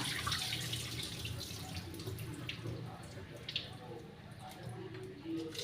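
Lentils are washed under running water in a sink, a steady faint splashing stream with small drips and swishes throughout.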